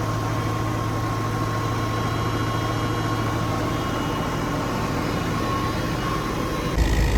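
A New Holland 850 tractor engine runs steadily under load while driving a wheat thresher, a loud continuous low diesel drone with mechanical hum, near and unbroken, rising slightly at the end.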